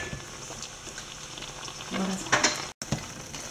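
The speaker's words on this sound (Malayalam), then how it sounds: "തേങ്ങ അരപ്പും പൈനാപ്പിളും നല്ലപോലെ തിളച്ചിട്ടുണ്ട്" Coconut paste and pineapple bubble and sputter steadily in a pan, with soft pops and crackles close by and a brief dropout near the end.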